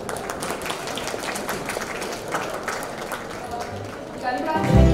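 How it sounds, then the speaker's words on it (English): An audience at a health show event gives a round of applause, a dense burst of clapping from a crowd that swells toward the end, with a voice briefly mixed in. "Round of applause for everyone for Kanika."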